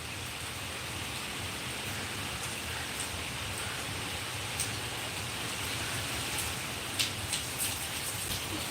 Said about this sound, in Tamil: நம்ம ஊரில் தான் மழை.